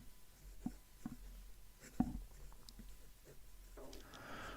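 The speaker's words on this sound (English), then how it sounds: "So let's just do some writing." A fountain pen with a 1.1 stub nib scratches across paper in soft, close strokes and taps with pauses between them, ending in a longer rustling scrape.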